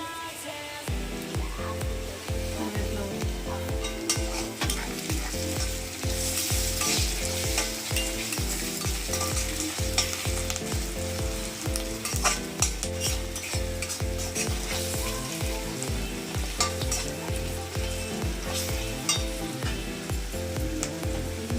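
Curry leaves frying in hot oil in a pan while being stirred, a steady loud crackling sizzle with repeated rhythmic scraping strokes throughout, no voices.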